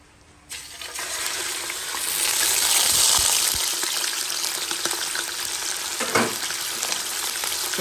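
Generous pieces of fresh meat for a roast sizzle in a hot pan, a bright hissing fry that swells after a quiet start and then holds steady and close, with occasional clinks and stirring knocks.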